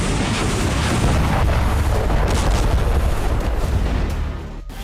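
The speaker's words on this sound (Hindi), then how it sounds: "जिसकी वजह से यहां जोरदार धमाका देखा गया" A weapons depot stocked with Western-supplied arms explodes after a drone strike, a loud continuous roaring rumble that holds steady for several seconds before beginning to fade.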